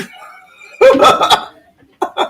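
Dog barking in a home, a short burst of several loud close barks followed by a pause and two more barks, with people talking around it.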